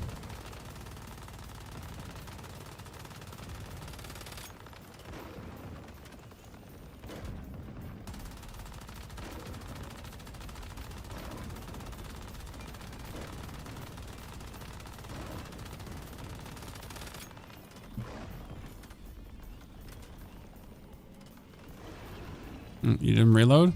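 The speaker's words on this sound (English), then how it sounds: "I'm not even seeing the shots going out towards the Shadow Hound." Rapid automatic gunfire rattles in a hectic fight in the survival shooter Once Human, fairly quiet and continuous, with a voice talking over it and a louder burst near the end.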